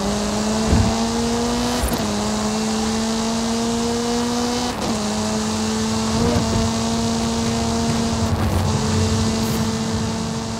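Video-game Hoonigan Ford Focus RS RX rallycross car racing, its engine holding a loud steady drone with several brief gear-change dips and rising pitch sweeps throughout, no talking.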